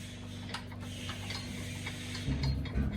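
A bolt spun in by hand while fitting crash bars to a Honda CB500X motorcycle, heard as a steady run of soft ratcheting clicks that grows a little louder near the end, with no talking.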